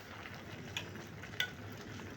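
Andijan-style plov (osh) made with lazer rice is stirred as it cooks, giving a quiet, even sizzle with faint scraping accents.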